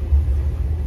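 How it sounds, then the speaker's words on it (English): Steady low rumble of a sleeper car train travelling from Giza to Luxor, Egypt, heard from inside the cabin, continuous and even with no voices. "We are on the sleeper car train from Giza to Luxor."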